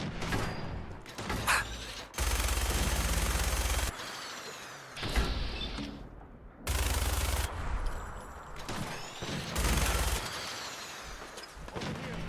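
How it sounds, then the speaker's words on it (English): A minigun in Fallout 4 fires in long, loud sustained bursts, dense buzzing rattles broken by short pauses, amid other game sounds during a fight. "Minigun time."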